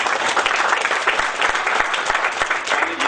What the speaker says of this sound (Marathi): जोरदार टाळ्या रचना बागवे यांच्यासाठी होते